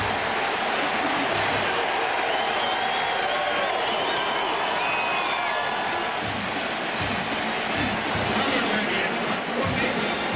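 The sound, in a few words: college football stadium crowd cheering loudly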